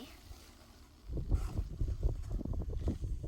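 Wind blowing outdoors on a hillside, a low rumbling gust that rises suddenly after a quiet second and keeps buffeting steadily with uneven surges to the end.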